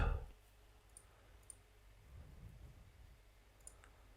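Mouse clicks on a computer in music production software, a few faint, sharp, isolated clicks spaced apart over a quiet background.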